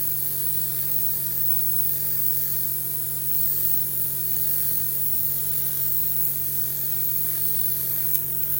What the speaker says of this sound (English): Now I don't always dry it using my airbrush, sometimes I just let it air dry